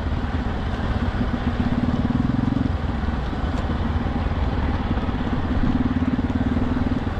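A motorcycle rides along at moderate speed, its engine a steady close drone with a low humming tone and some rattling, continuous and fairly loud throughout.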